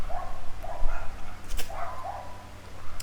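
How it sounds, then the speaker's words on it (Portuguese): Neighbourhood dogs bark outdoors at a moderate distance, a handful of short yelping barks in loose bursts, heard alone without speech. "Desculpe se estiverem ouvindo muito cachorro latindo, que a minha vizinhança aqui é só cachorro para todo lado."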